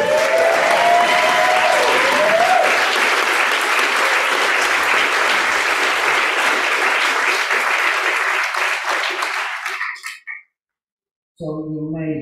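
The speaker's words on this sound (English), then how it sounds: "our four finalists need another little bit of applause." Loud, sustained audience applause for the finalists at the All-Ireland Poetry Slam Championship final, with a few whoops over it. The clapping runs for about ten seconds, cuts out briefly to silence, then a voice returns.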